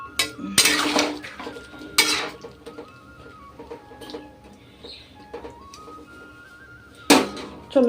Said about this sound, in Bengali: থালা ঢাকা দিয়ে দিই